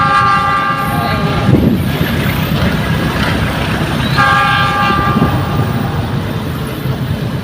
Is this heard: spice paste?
no